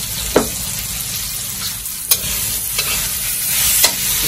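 Garlic sautés in an oily pan for squid adobo, a steady close sizzle broken by four sharp scrape-and-stir clatters spaced through the clip.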